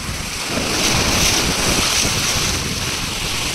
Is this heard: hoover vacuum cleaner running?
no